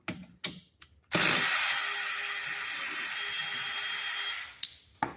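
A power socket tool unscrewing a bolt on a recliner being taken apart, a few short taps and then a steady, loud mechanical whir held for about three seconds before cutting off.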